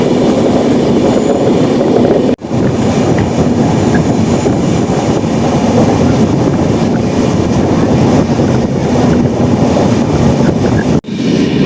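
The Kanyakumari Express rumbles along at speed, a loud continuous roar of wheels on rails heard from inside a carriage, with two sharp momentary dips in the din.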